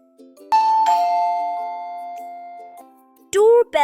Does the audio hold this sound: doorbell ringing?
yes